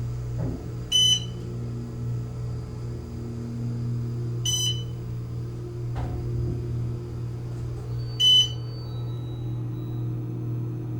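An Otis Series 6 hydraulic elevator in a Hilton Garden Inn sounds three clear, bright chimes a few seconds apart over a steady low hum and rumble from the moving car.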